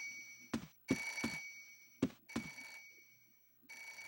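In Parasite Eve 2, a telephone rings in short, sharp bursts, two pairs of rings separated by a pause, heard quietly over a low ambient hum.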